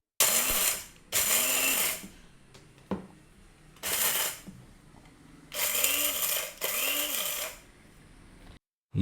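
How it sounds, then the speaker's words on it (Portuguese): Coffee grinder coarsely grinding beans for a French press, running in several loud bursts of whirring with quiet pauses between them, close by. "Vamos colocar aqui no moedor e a gente vai moer"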